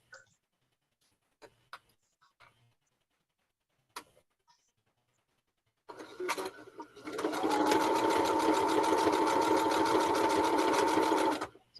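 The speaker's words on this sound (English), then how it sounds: "And I just chain sew them." A sewing machine chain sews quilt block units, starting after a few soft clicks and handling noises, then running in a steady, continuous close whir.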